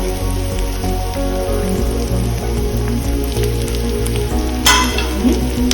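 Goan-style prawns frying in a pan with spices including coriander powder, cumin powder, turmeric and green chilli give a loud, steady, close sizzle that runs unbroken throughout, with a brief sharper crackle burst near the end.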